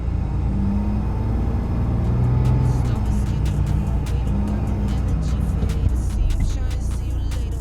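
4x4 vehicle bogged in sand in Cape York straining to climb out onto Maxtrax recovery boards, a steady low engine rumble held at constant volume with no talking.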